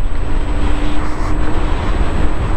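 Electric scooter with speed capped near 50 km/h, ridden at full throttle on the road: a steady, loud broadband rush of wind and road noise with a faint whine, continuous throughout, no talk.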